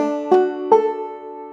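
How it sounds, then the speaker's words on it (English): Clawhammer banjo tuned to D plays the Galax Lick, two bright plucked attacks a beat apart ringing into sustained open-string drone, close and clear with no voice. "the most common version of the Galax Lick is an 8th note triplet"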